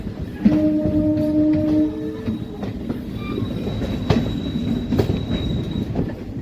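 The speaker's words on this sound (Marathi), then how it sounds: "Hyderabad Secunderabad local crossing." A Hyderabad–Secunderabad local train passes close by with a loud rolling rumble, squealing wheels and rhythmic clacks over the rail joints, heard from a moving passenger coach with no talk.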